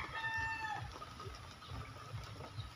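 Chickens in a neighbor's backyard coop cluck softly at night during rain, with a brief higher call early on over a steady background hiss; faint and somewhat distant.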